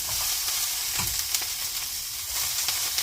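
Shishito peppers stir-fried in a generous amount of oil give a close, steady sizzle and hiss, with scraping stirring strokes throughout.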